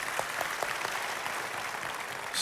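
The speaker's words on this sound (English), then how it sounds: "a big round of applause to everyone" An audience at a TEDx event applauds in a dense, continuous burst of clapping that holds at an even level throughout the short stretch.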